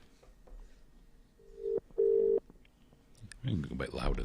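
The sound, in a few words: telephone call ringing, waiting for an answer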